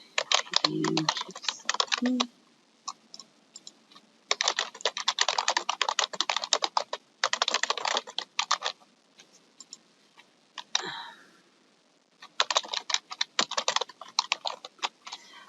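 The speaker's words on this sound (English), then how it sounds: "here I could type the case summary, the personal history, any new comments" Rapid bursts of typing on a computer keyboard, close and clear, come in several runs of clicking keystrokes separated by short pauses, with a brief murmur of voice near the start and once more partway through.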